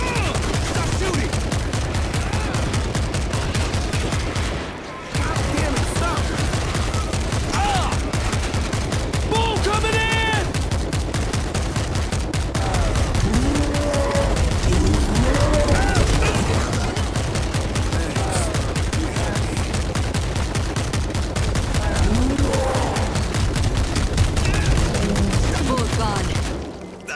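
Sustained rapid automatic gunfire from World War Z in New York, a relentless machine-gun rattle running almost unbroken with a brief pause, while voices shout over it.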